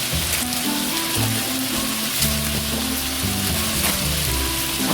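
Chicken sizzles and sautés in a pan for adobo, a steady dense crackle that fills the whole five seconds, close and loud, with no talking.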